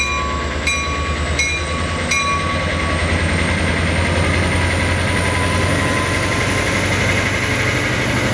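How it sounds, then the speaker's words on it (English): A northbound Coaster commuter train pulls out of Solana Beach Station, its engine droning loudly and steadily with a sustained rumble and a few sharp clicks early on, no voices. "here comes this northbound coaster out of Solana Beach Station."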